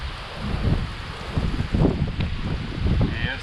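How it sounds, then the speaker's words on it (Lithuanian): Strong wind buffets the microphone on a clear day outdoors, gusting in uneven, rumbling surges that rise and fall throughout. "Vėjas nemažas ir tai buvo giedra"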